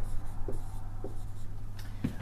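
A pen or chalk scratching out a number by hand during a geology lesson, a few short separate strokes spaced about half a second apart, the last one firmest, over a steady low hum and no talking.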